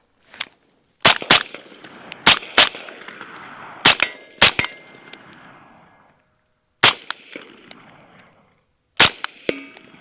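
Gunshots fired one at a time in a night shooting drill, loud sharp reports with irregular gaps, some in quick pairs, each followed by a short ringing tail. No voices between the shots.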